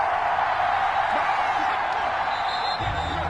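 A simulated stadium crowd in a PS4 American football game featuring the Patriots keeps up a continuous, even roar, with no clear voices over it.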